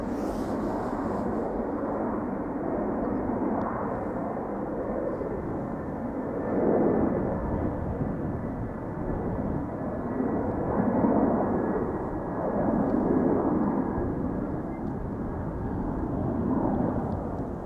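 A 21-year-old Atlas Air cargo jet on Flight 9793 to Hong Kong departs Amsterdam Schiphol Airport. Its broad, steady engine roar rises and swells slightly over about eighteen seconds, with no voices.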